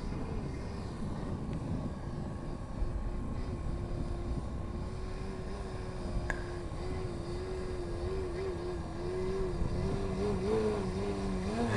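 A Harrier jet flies at a Fourth of July air show, heard as a steady, fairly distant engine roar with a wavering whine held throughout, with no talk.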